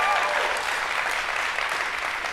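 Debate audience applauding steadily, a dense, even wash of clapping that holds at the same loud level throughout with no voices over it.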